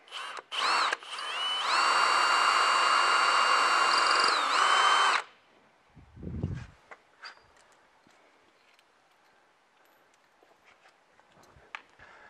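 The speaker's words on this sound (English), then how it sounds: "I'm going to drill the second hole on the bottom of the oval hole" A power drill whines loudly for several seconds after a couple of short bursts while drilling a bolt hole during installation of a manual crank hoist for a Jeep Wrangler hardtop, then stops, followed by a thud and quiet clicks and handling noises.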